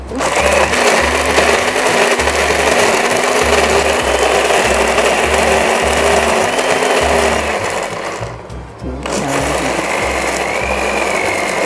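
A blender whirs loudly and steadily, its motor pulsing in a regular rhythm, with a brief dip partway through before it resumes.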